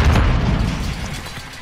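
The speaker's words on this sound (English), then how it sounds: "Grenade down!" A grenade detonates in a first-person shooter match on Mt. Zaya, a loud, deep boom rolling into a decaying rumble close by.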